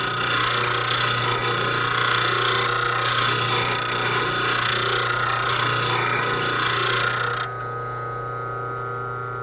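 A skew chisel is ground against a bench grinder in a woodturning shop, a loud, continuous, gritty whine that holds for several seconds and then drops away to a quieter motor hum.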